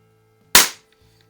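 A single sharp crack from a plinking gun firing, loud and close with a quick decay into near silence.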